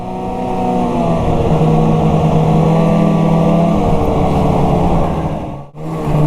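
A snowmobile fitted with Kemimoto cable ice scratchers runs over hard-packed snow, its engine droning loud and steady with a sustained tonal hum, briefly dipping near the end before picking up again.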